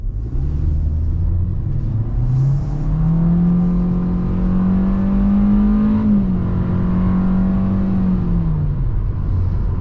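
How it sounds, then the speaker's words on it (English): A 2022 Hyundai Accent with a 1.6 engine accelerates from inside the cabin, its engine note climbing steadily through the revs over a low road rumble before easing off near the end. "I'm gonna go ahead and do an acceleration right here."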